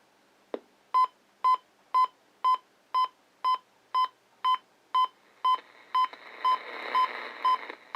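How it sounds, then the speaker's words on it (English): A Sanyo RM5100 clock radio alarm beeps in a steady, rapid rhythm, about two short tones per second, loud and close, with a faint hiss of radio static swelling near the end. "I'll go ahead and I'll set the alarm"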